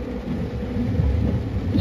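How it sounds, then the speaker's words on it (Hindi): Heavy rain pours down in a dense, steady roar with a low rumble of thunder beneath it, loud and continuous and with no voices. "मौसम का हाल दिखाएंगे अभी, बहुत बारिश है गाइस"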